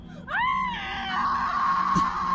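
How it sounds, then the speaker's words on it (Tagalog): A woman's high-pitched scream rises sharply and holds as a long, loud wail, sounding somewhat distant over a background hum. "Parang babae po yun, officer. Sumisigaw."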